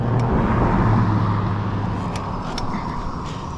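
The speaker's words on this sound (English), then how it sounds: "Car coming here too." A car passes on a newly tarred road, its engine and tire noise loud and steady throughout as it goes by close to a stopped e-bike.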